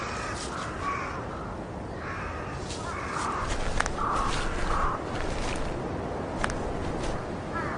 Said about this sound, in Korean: 까마귀들이 가장 먼저 도착한다.